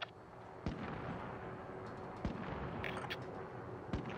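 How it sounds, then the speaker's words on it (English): Distant gunfire and heavy thuds from a Call of Duty: Modern Warfare battle, a few sharp isolated shots spaced over a rumbling background, fairly faint. "Yeah, this shooting down there."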